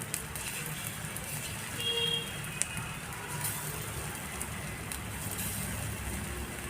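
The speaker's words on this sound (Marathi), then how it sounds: "सर्व कारली इथे व्यवस्थित असे फ्राय करून घेणार आहोत अगदी कमी तेलामध्ये" Bitter gourd pieces fry in a small amount of oil over very low gas, giving a steady, soft sizzle and crackle throughout with a few faint pops.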